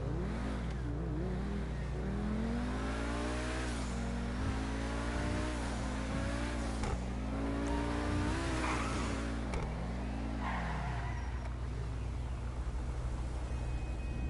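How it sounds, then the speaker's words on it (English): A car engine revs and accelerates, the pitch rising and falling in repeated surges over a steady low hum, fairly faint and with no talking. "I'll let you guys hear their car."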